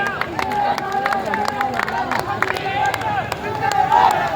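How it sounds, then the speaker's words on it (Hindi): An audience at a regional community gathering claps to welcome guests, a dense patter of hand claps mixed with crowd murmur and a voice speaking over it. "तालियों के साथ में आप स्वागत करें"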